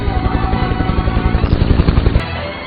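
A helicopter's rotor beats in a dense, rapid, steady rhythm over a loud, muffled rumble during an escape scene in a yakuza action film. The sound cuts off abruptly near the end.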